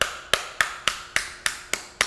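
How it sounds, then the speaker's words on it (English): Hammer flattening a soft metal flange on an anvil: eight sharp, ringing strikes in a steady, evenly spaced rhythm, close and clear, with no talk. "Now the metal's getting stiffer and stiffer the more I work it with a hammer."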